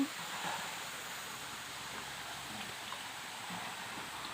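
A forest waterfall pours in a steady, even broadband rush that holds constant throughout, moderately distant and with no voices over it.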